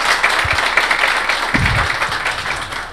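Applause from an audience at a Portuguese-language business event with brokers, a steady dense wash of clapping lasting throughout with no voices.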